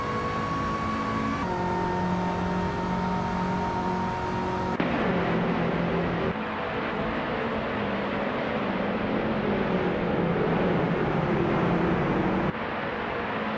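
Engines of Skip Barber Formula 2000 race cars drone steadily in a racing video game, with sustained buzzing tones that shift pitch abruptly as cars pass and change gear, continuous and moderately loud with no talking.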